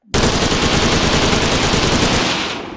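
Rapid automatic gunfire in the video game Redwave 2, a loud, unbroken burst of closely spaced shots lasting over two seconds before trailing off.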